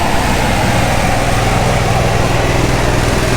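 Generator on a Winnebago Vista/Sunstar 34R motorhome runs close and loud, a steady droning engine hum with a rough buzzing texture that holds constant throughout, no talking over it.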